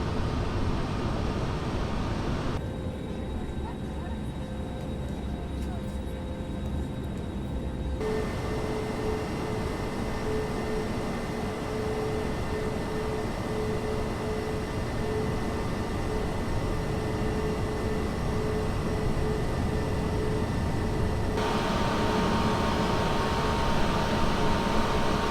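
Steady engine hum and broadband whine from an airliner taxiing toward the runway in Microsoft Flight Simulator, with the aircraft flying from Scotland to Rome; the drone stays constant throughout and changes tone slightly partway through, with no talk.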